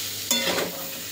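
Peas being mixed into a pan mixture, a single soft stir stroke with a brief sizzle and scrape, close and quiet, with no talking.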